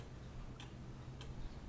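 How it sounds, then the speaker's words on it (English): An antique Johann Baptist Beha cuckoo clock ticks faintly and evenly, two soft ticks about half a second apart over a steady low hum. "This is a very special cuckoo clock made by Johann Baptist Beha."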